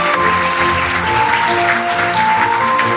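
An audience at an AI global forum in Seoul applauds, with loud, dense clapping that is sustained evenly from start to finish.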